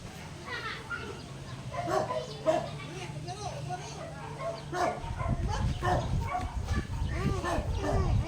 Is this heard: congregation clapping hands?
no